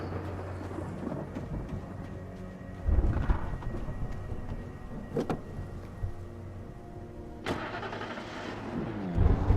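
Car engine starting in the Alan Wake video game, with a low engine rumble that swells in bursts over a thunderstorm ambience of rolling thunder and rain.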